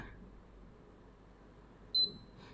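A DERMOVE A10 fingerprint padlock gives one short, clear electronic beep near the end, over a quiet background hiss.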